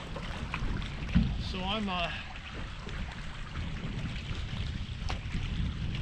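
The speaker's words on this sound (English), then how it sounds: "So the wind has really come up, making it a lot colder." Strong wind blows across Lake Lanier during bass fishing from a boat, a constant low buffeting rumble against the microphone, with someone briefly speaking.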